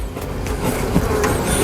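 Honey bees swarm around an open top bar hive during comb work, a busy close buzzing with scraping and handling noises mixed in, and nobody speaks.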